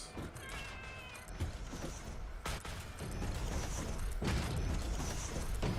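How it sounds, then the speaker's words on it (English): Several cats meow in a factory-building video game, with high, wavering cries repeating over a steady mechanical hum and clanking machinery. "I hear cats"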